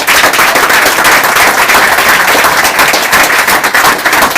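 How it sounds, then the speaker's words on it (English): Loud, dense applause fills the room without a break, a crowd clapping for the sisters' food spread at a Purim feast in Manchester, England. "please give the sisters a round of applause for this preparation"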